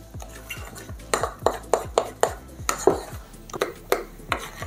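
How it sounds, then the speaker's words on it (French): A spoon mixes white chocolate muffin batter in a bowl, giving a steady series of close, distinct scraping knocks against the bowl, about two a second, with no talking. "Et là, on va venir mélanger, mais avec une cuillère cette fois-là."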